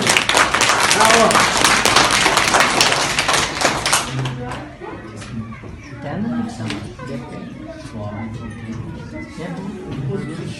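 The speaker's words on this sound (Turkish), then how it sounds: "alkışlayalım. Bravo." Children clap together loudly in a dense burst for about four seconds, at an event in Van, then the clapping thins and gives way to a murmuring crowd and scattered voices.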